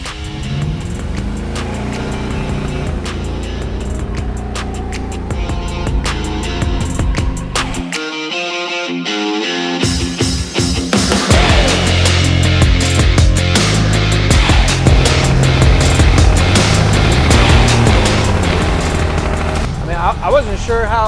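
A big wheel drag car on small front tires is driven, with a loud, continuous engine roar that drops out briefly partway through and then builds again, with voices at times.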